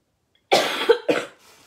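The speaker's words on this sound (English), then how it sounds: "I told y'all I was going to cough." A person coughs twice in close succession, a loud harsh burst followed by a shorter second one, then quiet.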